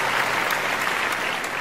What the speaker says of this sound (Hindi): भरपूर तालियां हो जाएं पहले हमारे इकबाल के लिए